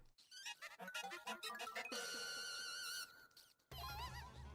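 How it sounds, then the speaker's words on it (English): High, chirpy squeaks chatter in rapid bursts in Zelda Spirit Tracks, a busy run of wavering little cries at close range that breaks off for a moment, then returns over a low game hum. "Do you hear squeaking, Link?"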